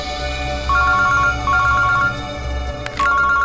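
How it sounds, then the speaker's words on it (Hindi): A telephone rings in repeated electronic trill bursts, three evenly spaced rings over a low room hum, clear and close. "अभिजीत का फोन है।"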